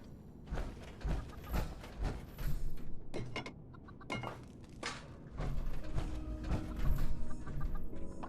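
Chickens cluck softly and intermittently in the video game Fallout 76, mixed with scattered clanks and thumps of game activity at moderate, uneven loudness.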